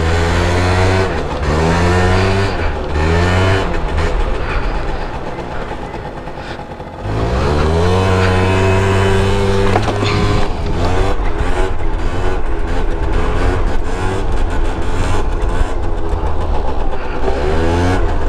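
Small motorcycle engine idling and revving in repeated bursts, its pitch climbing and dropping close by, with a brief dip near the middle before steady loud running resumes; exhaust reportedly partly clogged.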